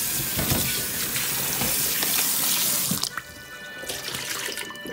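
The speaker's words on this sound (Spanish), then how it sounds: "Tengo 3 papas que ya las estoy lavando aquí" Tap water runs steadily into a kitchen sink as potatoes are washed under it, a loud continuous rush that cuts off abruptly near the end, leaving a quieter faint drip and rinse.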